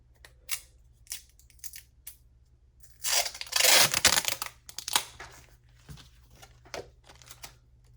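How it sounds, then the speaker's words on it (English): Pieces of tape pulled from a roll and torn: a few short crisp rips, then a longer loud ripping tear in the middle, followed by smaller crackles, close and clear. "Excuse me while I just get a couple pieces of tape here."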